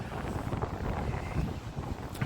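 Strong wind off the ocean at Lagoa de Albufeira, Portugal, buffets the microphone in a continuous, rumbling roar with gusty low-end thumps, no voices heard.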